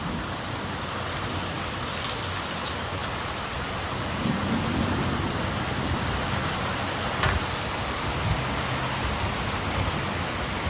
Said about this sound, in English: Yeah, it's raining behind me, it sucks.